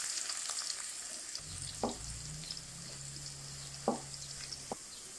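Garlic fries in hot oil in a wok while cooking a potato-and-egg dish, a continuous soft hiss with a low hum under it and two or three brief clinks of a utensil. No one speaks.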